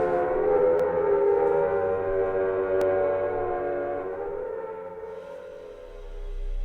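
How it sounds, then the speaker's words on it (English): From the video game Silent Hill 1, an air-horn-like siren drones as a thick, sustained, slightly wavering blare that slowly eases off, with faint low rumble underneath. "we've heard these air horn, siren-sounding things."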